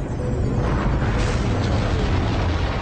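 A powerful rocket launch rumble, a continuous deep roar with broadband crackle held at steady loudness for about three seconds, with no voices.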